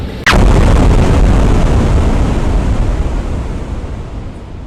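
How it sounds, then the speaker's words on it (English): A single loud explosion bursts with a sharp crack, then rolls into a long, roaring rumble that slowly fades over several seconds, with no other sounds. "did you see that explosion?"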